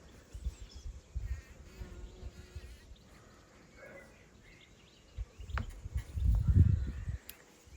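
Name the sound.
bees buzzing around poppies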